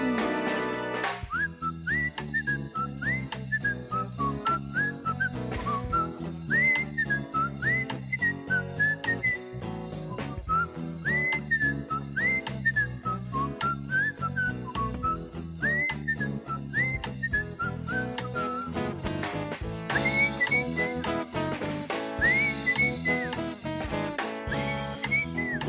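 Someone whistles a bright, melodic tune at length over an accompanying musical backing, the whistled phrases rising and falling steadily throughout.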